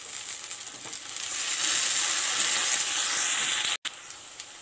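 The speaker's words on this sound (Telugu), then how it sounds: "ఉల్లిపాయలు బ్రౌన్ కలర్ లోకి వచ్చేసినాయండి ఇలా ఫ్రై చేసుకోవాలి" Onions sizzle steadily in hot oil with green chillies and curry leaves, a close, bright hiss that swells slightly with light stirring before a sudden brief cut.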